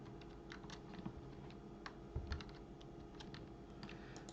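Quiet, steady clicking of keys on a computer keyboard, scattered taps spread evenly over a soft room hum, close and without talk.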